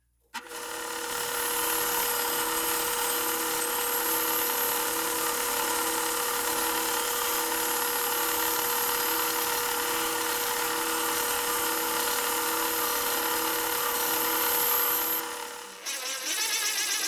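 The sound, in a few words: bandsaw cutting out a semicircle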